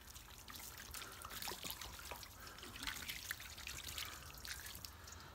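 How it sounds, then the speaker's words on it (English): Water trickling and dripping while a part from a 1956 Pontiac is rinsed, a faint, continuous splashy flow with small irregular spatters. "And then rinse it."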